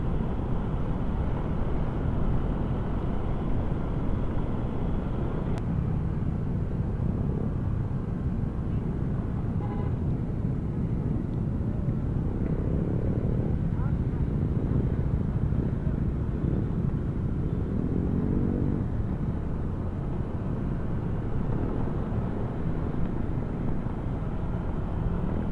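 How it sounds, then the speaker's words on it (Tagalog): A large group of motorcycles on a charity group ride through Abuyog, their engines blending into a continuous loud rumble that stays steady throughout, with wind buffeting the microphone and faint voices underneath. "Napakaraming motor kasi."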